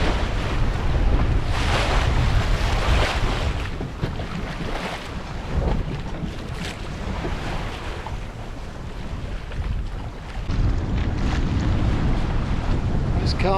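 Wind rushes and buffets the microphone while waves slap and wash around a small 20-foot sailboat on choppy open sea, a loud, continuous roar that eases slightly midway before building again.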